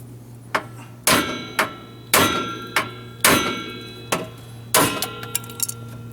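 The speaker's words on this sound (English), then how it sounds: "Hammer, please." Repeated hammer blows while working on the bumper of a 2000 Honda Civic DX during a replacement, sharp metallic strikes about seven or eight times at an uneven pace, close and fairly loud over a steady low hum.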